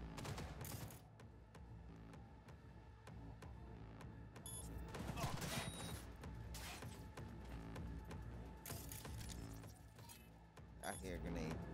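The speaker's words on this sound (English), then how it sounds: "I hear a grenade." Gunfire and a grenade blast in the video game Cyberpunk 2077: dense rattling bursts of shots and heavier explosive thumps, fairly quiet overall, with a voice talking over parts of it.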